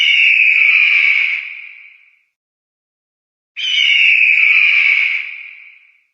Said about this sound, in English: Eagle, a strong bird that flies high in the sky.